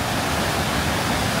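A waterfall near a hotel at Whiteface Mountain in Upstate New York pours in a continuous, even hiss of falling water that stays constant throughout, with no talking.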